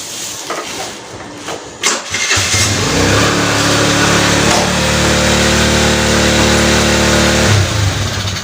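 A motorcycle with a fault that makes its engine run wild cranks and catches, then settles into a loud, steady, close idle with a droning hum, a few rising surges, and a brief burst near the end.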